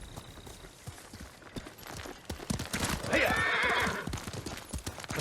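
Horse in the Ghost of Tsushima video game, hooves clip-clopping in a steady running rhythm with a loud whinny swelling around the middle, over game ambience and light background voices.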